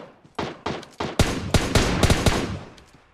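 Gunfire in the mobile battle royale game PUBG Mobile: a string of loud, sharp shots in uneven bursts, roughly a dozen cracks over a few seconds, close and punchy.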